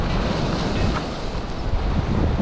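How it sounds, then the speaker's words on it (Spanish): Ocean waves wash against the shore under strong wind buffeting the microphone, a dense continuous roar with no talking. "¿cómo está ahorita el oleaje acá?"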